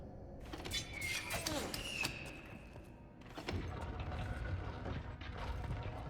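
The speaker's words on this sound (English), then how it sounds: "The first thing I touched immediately opened this door." A door mechanism opens in the video game Avowed, with grinding, ratcheting clanks and heavy thuds over several seconds, loud and near.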